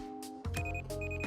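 Electronic beeps from a Rust pager in the video game, two short bright tones that repeat at a steady pace over a low hum, loud and close with no talk.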